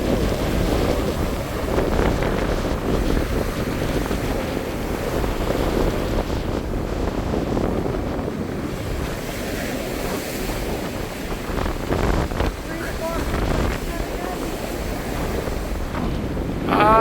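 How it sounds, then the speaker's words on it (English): Deep, powerful sea waves roll and break steadily near a lighthouse on the German Baltic coast, a loud continuous surf roar mixed with heavy wind buffeting the microphone, with no voices. "But man, those are deep and powerful waves"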